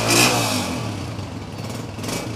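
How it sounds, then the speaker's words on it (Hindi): A 2012 Honda 125 motorcycle engine runs steadily close by at a low, even idle with a faint mechanical rumble, no voices. "ज़बरदस्त साउंड आप भी सुन रहे हैं बाइक का"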